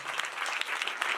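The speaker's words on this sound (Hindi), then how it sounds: "जोरदार तालियां जाएंगे, तालियां भी मारो" A church congregation applauding together, a steady dense patter of many hands clapping throughout, fairly distant with no voices over it.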